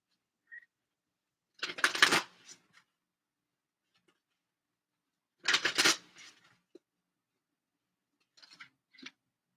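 Oracle cards from the Guides of the Hidden Realms deck being shuffled: two distinct bursts of crisp, papery riffling, close and fairly quiet, separated by silence, followed by a few faint soft card taps near the end.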